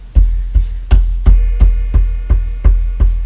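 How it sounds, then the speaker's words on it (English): A grandfather clock strikes noon indoors, with a steady run of nine deep, resonant chime strokes about a third of a second apart, each ringing out with a lingering hum, close and loud with no talking. "You can probably hear my grandfather clock in the background."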